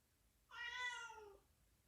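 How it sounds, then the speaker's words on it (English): A single clear cat meow, drawn out and falling in pitch, close by and alone against a quiet background. "My cat's meowing really loud."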